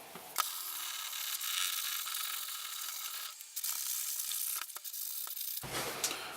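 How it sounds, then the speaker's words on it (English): Sandpaper at 180 grit on a sanding block rubbed by hand along the edges of a 3/4 scale dreadnought guitar template, a steady close-up rasping scrape in long strokes with short pauses and a louder burst near the end. "180 grit sandpaper on a sanding block, and we're just going to smooth the edges of this out"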